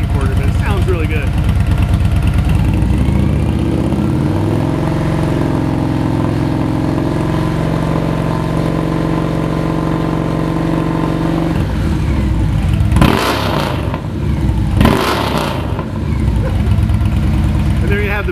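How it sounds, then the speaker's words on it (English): A motorcycle fitted with Big Gonzo exhaust pipes idles steadily up close, with a deep throbbing drone, then revs sharply twice near the end before settling back to idle. "now we've got the Big Gonzos installed, the best selling pipes I have. Fire it up."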